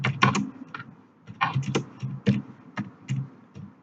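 Computer keyboard keys typed in short uneven bursts of clicks while entering Java code, close and fairly clear, with no talking.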